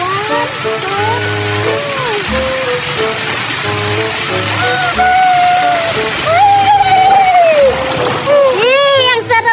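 A rider slides down a water slide into a swimming pool, with rushing, splashing water under excited, lively talking and voices throughout.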